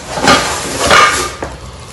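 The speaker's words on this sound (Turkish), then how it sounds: "Bu dörtlü tencere seti galiba." Metal cooking pots from a four-piece set clink and knock together as they are handled, a few close bright clatters in a short burst with no talk.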